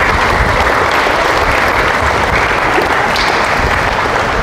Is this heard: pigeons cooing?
no